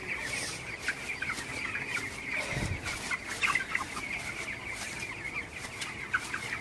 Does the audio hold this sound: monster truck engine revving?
no